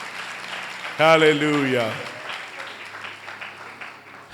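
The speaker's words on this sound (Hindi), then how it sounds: "आइए यीशु के लिए जोरदार तालियां बजाएं।" A church congregation claps in a steady wash of applause while a voice calls out loudly over it before the clapping fades down.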